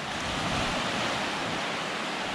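Surf rolls onto the Bristol Channel shore in a loud, continuous wash of breaking waves heard close by, with no voices over it.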